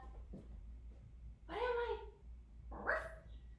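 A person mimics a dog's bark, two short voiced "woofs" separated by a pause, fairly quiet over low background hum.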